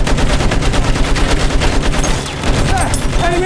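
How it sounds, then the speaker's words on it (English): Enemy machine gun fire in Battlefield 1 hammers in a dense, rapid, continuous rattle, loud and close, mixed with other battlefield gunfire and a brief voice. "There, enemy machine gun."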